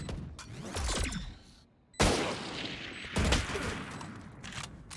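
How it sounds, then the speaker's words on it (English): A short burst of gunfire sprays into smoke in a tactical shooter video game, with sharp shots near the start and again around the middle amid mechanical clicks, loud and close. "as per tradition, shoots a few bullets into the smoke"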